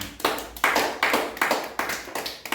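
A church congregation claps in a steady rhythm to acclaim the Lord, about eight sharp, evenly spaced beats, loud and close.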